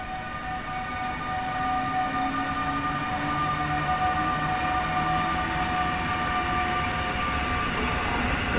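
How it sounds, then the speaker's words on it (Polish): A Słowiniec passenger train pulls away from Warszawa Zachodnia station on a freezing winter day, a steady loud rumble of wheels and motors with sustained humming tones running throughout, no voices. "rusza pociąg Słowiniec"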